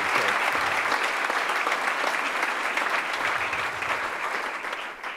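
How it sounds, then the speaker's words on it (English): A full round of applause from an audience honoring Don Graham at a GM Foundation social responsibility event, thick continuous clapping that holds steady and tapers slightly near the end. "I want to give a round of applause to Don Graham"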